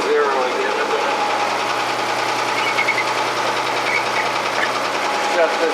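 Diesel generator aboard a Fisher 30 sailboat charging the starting battery, a steady loud mechanical drone with a constant low hum and rattling vibration running throughout, close by, with no pauses.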